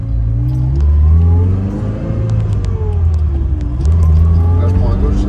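A Sbarro Super Eight road car accelerates and revs hard, its engine loud and close with a rising, falling and rising pitch across several seconds, under a continuous low rumble.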